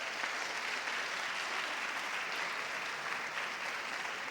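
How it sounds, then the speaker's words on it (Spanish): An audience claps in a church, producing dense, steady applause that stays even in loudness for several seconds without any talk. "Yo pensé que los papás iban a celebrar con un aplauso lo que yo estaba diciendo aquí esta noche."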